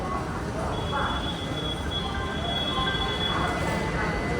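Steady low rumble of a train, with a faint high tone and some muffled voices in the background throughout.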